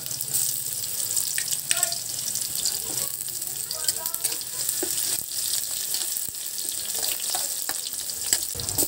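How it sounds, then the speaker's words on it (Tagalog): Garlic sautés in hot oil for sweet and spicy squid, a steady crackling sizzle with occasional clinks and stirring scrapes, and a faint bit of running water underneath. "mag-init ng mantika at gisahin ang bawang"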